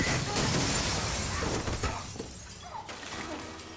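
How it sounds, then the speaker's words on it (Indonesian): Bulletproof glass shatters in a bomb blast, a loud dense crash and spray of breaking fragments that fills the opening seconds before thinning into a fading rattle of debris. "Kaca anti peluru langsung meledak."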